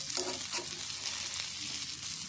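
Mangalore-style fish frying in a pan gives off a constant close hiss of sizzling oil, with a few brief stirring or turning sounds and no talking.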